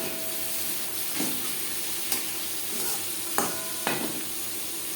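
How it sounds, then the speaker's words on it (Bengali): Onions frying in hot oil with a spice tempering for masoor dal thor ghonto, giving a continuous close sizzle with a few stirring scrapes and taps spaced through it, no talking. "পেঁয়াজ লালচে করে ভেজে নেব।"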